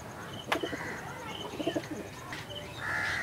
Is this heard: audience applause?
no